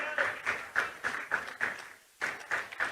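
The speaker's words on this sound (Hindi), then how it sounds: "स्वागत की श्रृंखला में तालियां बनी रहें" Audience clapping at a government event welcoming guests, a steady rhythmic unison beat of claps that pauses briefly and resumes, moderately distant.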